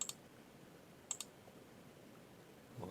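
Sharp, quiet computer mouse clicks placing points in JSol'Ex software, one click followed a second later by a quick double click, in a hushed room with no talk.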